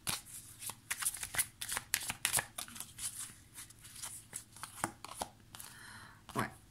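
Tarot-style cards laid out one by one during a card reading, giving repeated crisp slaps and quick shuffling flicks at an irregular pace, close and clear with no talk.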